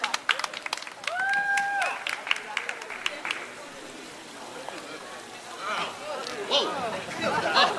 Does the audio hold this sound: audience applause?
yes